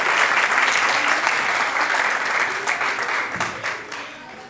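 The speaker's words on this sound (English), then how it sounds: "Let's give her one more round of applause for that spectacular effort." Guests at a 21st birthday party applaud a dancer after her performance, a full, steady burst of many hands clapping up close that gradually thins toward the end.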